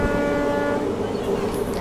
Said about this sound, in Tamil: நம்ம ட்ரெயின் பார்த்தீங்கன்னா இப்போ திண்டுக்கல் ஜங்ஷன்லேருந்து டிபார்ட் ஆகி போயிட்டு இருக்குங்க